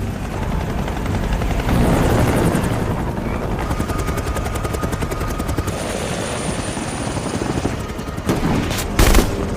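A patrol helicopter from the film Sicario chasing migrants at the Mexican border, heard as loud, close rotor thumping and engine roar, with a burst of gunfire-like booms near the end.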